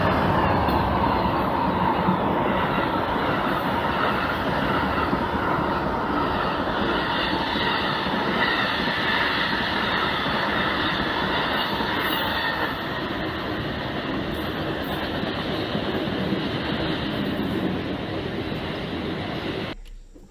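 Passenger train 48 hauls deadheaded coaches from the Cardinal past in a continuous loud roar of engine and rolling wheels that holds steady for about twenty seconds before easing off slightly.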